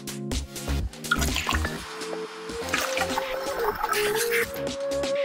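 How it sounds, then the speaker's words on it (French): Milk is poured into a pan for lasagne sauce, making a close, bubbling, glugging stream with a rising pitch as the pan fills, lasting about five seconds without speech. "Puis versez le lait et continuez à remuer jusqu'à ce qu'il commence à bouillir."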